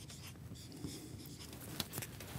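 Marker or chalk writing on a board during a functional programming lecture, faint continuous scratchy strokes over a steady room hum, soft and somewhat distant.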